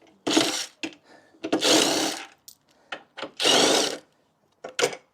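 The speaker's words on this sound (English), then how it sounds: "So now we take our T45 and we're just going to remove these 4 bolts for the struts" A power driver with a T45 bit backs out fender strut bolts in three loud whirring bursts separated by short pauses and small clicks, close up.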